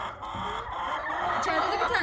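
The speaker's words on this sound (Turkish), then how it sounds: "16 tane tavuk kalmış arkadaşlar." Chickens in a farm coop cluck in a busy, continuous chatter of overlapping calls, heard close and fairly loud.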